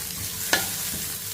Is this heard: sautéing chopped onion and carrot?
yes